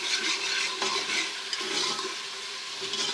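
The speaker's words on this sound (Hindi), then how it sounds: "इसको थोड़ा सा भून लेंगे, इसकी भुनाई करेंगे मसालों की थोड़ा थोड़ा सा पानी शामिल करके।" Spice masala for kadhi pakora being fried and stirred in a pan with a little water, giving a steady soft sizzle with scraping stir strokes and a few faint clinks, close and continuous.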